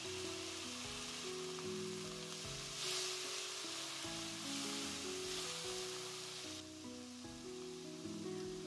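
Diced tomatoes and softened onion stir-fry in oil in a pan, giving a close, continuous sizzle with bursts of crackle as the pan is stirred, faint in level and free of talk; a low musical backing runs beneath.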